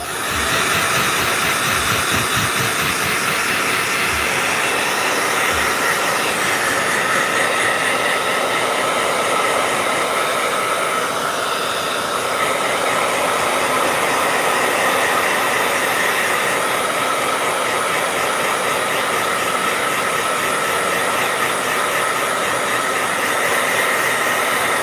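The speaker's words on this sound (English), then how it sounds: "Blow dryer." A hair blow dryer runs steadily and loudly for the whole stretch, a continuous broad airy hiss with a whirring motor tone and no pauses, alone without any talking.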